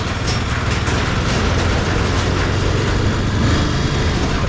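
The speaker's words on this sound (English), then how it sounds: "Driving onto the train." Steady, loud engine drone and rolling rumble as a motorcycle rides onto a car-carrying train in Switzerland, a continuous noise that hardly changes.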